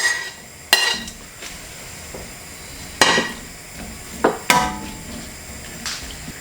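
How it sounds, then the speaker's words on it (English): Vegetables being tipped into a pot on medium heat for mackerel ramen, sharp metallic clanks and knocks of utensils against the pot ringing out several times at irregular intervals over a quiet background hiss. "On a medium heat, I'm gonna put all the vegetables in there at the same time."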